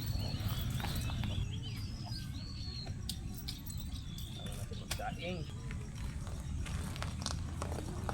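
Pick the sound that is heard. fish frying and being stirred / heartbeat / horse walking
horse walking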